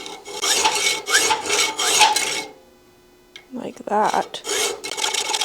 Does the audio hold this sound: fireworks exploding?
no